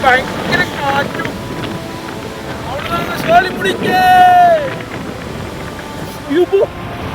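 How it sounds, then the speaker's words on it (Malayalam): Strong monsoon wind rushes and buffets during a forest ride in Valparai, a loud rough roar that swells and fades, with people talking over it. "ഭയങ്കര കാറ്റും"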